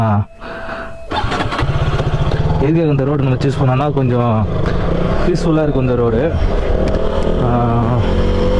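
A motorcycle engine drones steadily throughout, close and loud, while someone talks over it in Tamil on a road near Kanchipuram.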